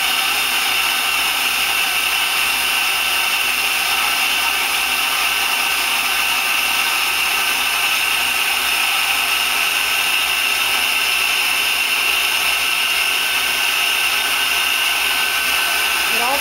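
Nexturn SA32 CNC Swiss lathe drilling with a live back-working tool driven off the sub spindle, a steady loud machine whir and hiss running without a break.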